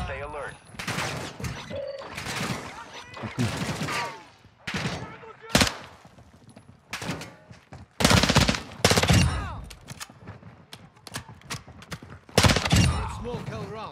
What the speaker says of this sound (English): activity is gunfire. Stay alert.